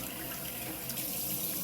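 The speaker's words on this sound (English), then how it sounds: "you want to get some hot water going." Hot water runs from a kitchen sink faucet in a steady, close, continuous hiss.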